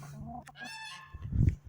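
Backyard chickens squawk and honk loudly up close: a shrill drawn-out call, then a harsher burst of clucking near the end, heard alone on a farm in early winter.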